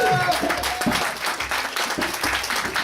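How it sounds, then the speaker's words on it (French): A church congregation applauds in a steady wash of clapping that runs the whole stretch, with voices mixed in under the noise. "Acclamons le Seigneur pour eux."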